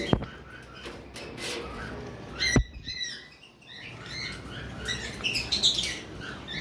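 Caged Fischer's lovebirds, including a red-eyed lutino pair, chirp and twitter in quick irregular bursts with sharp high calls and light rustling, moderately close and without speech.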